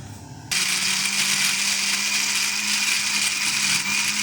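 A blender grinds ginger and garlic with salt and oil into a paste, starting abruptly after a short quiet moment, then a loud, steady motor whir with a constant hum, close and alone.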